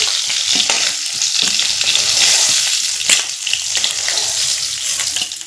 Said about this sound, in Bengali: উল্টো পাল্টা করে মাছগুলো ভেজে। মাছগুলো ভাজা হয়ে গেছে।